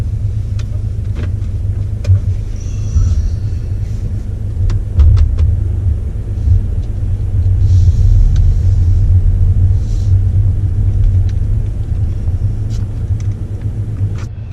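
A 2018 Mercedes E220d coupe diesel engine idles with a low, steady rumble, with occasional small clicks and rises in loudness.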